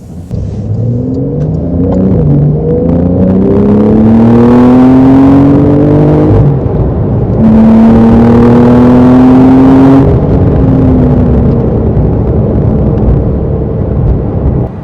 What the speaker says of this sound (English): Currently we've got the sports exhaust on,